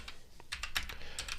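Computer keyboard typed on while writing Python code: a short burst of quick, irregular key clicks, close and moderately quiet, with no voice over it.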